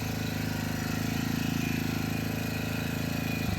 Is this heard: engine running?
yes